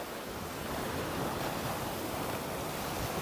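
Sea waves crash hard against a rocky island shore, a loud, continuous surging roar with wind buffeting the microphone throughout.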